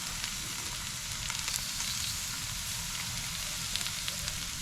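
Big chicken breasts sizzle on an oiled Weber grill at a campsite, a steady close crackling hiss with scattered pops and spits, no voices.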